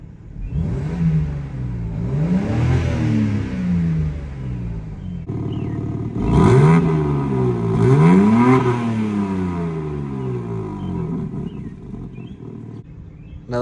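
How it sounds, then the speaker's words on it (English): A BMW G80 M3 Competition in comfort mode is revved twice, then twice more, each blip rising sharply and falling back to a rumbling idle, loud and close, with no crackle or burble. "Now we have the car in comfort mode."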